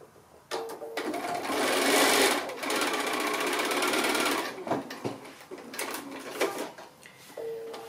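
A sewing machine stitches a diagonal line across a quilt block in one loud continuous whirring run of a few seconds, followed by shorter stop-start bursts and light handling clicks, close up with no talk.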